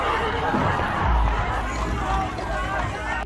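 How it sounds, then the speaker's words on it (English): A dense crowd cheers and clamors through the streets of a victory celebration for returning Israelite soldiers, palm branches waving; a steady, loud wash of many voices with shouts rising and falling, close and continuous. "Crowds fill the streets, waving palm branches and cheering, celebrating the hard-earned triumph"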